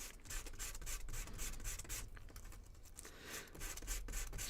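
A wooden model part for the Aviator build sanded by hand, producing a steady dry rasping rub that continues almost unbroken at close range, with no voices.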